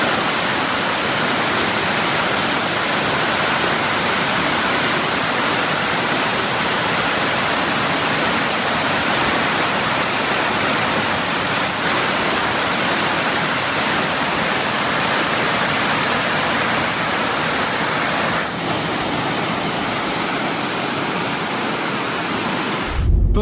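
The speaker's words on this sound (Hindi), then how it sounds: "बहुत ऊंचाई से तो पानी यहाँ पे नहीं गिर रहा, लेकिन जैसा है ऐसा है भाई।" Small waterfall on Mahé Island in the Seychelles, falling from no great height, gives a steady, loud broadband rush of water that runs unbroken throughout, with no voices over it.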